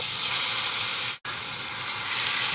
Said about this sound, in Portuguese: vou refogar 3 dentes de alho e uma cebola pequena que eu triturei